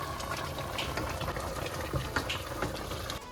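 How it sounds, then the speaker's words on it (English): Chicken frying in its own broth with onion, tomato, rosemary, spring onion and dhania, a steady close bubbling sizzle of liquid in the pan that runs unbroken, with a few louder pops and spits breaking through. "You just fry with the broth that's here."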